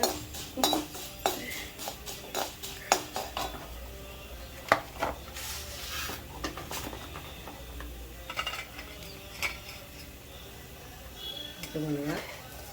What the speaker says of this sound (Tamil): நன்றாக செவக்க வறுத்துக்கணும்.